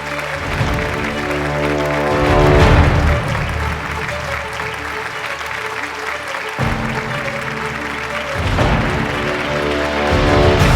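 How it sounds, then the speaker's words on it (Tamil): Audience applause fills an awards ceremony hall, sustained loud clapping from a large crowd that swells and fades in waves across the whole stretch, with no talking over it. "அந்த முதல் முயற்சிக்கு நம்ம எல்லாருமே மனசார கைத்தட்டி அவங்கள பாராட்டணும்."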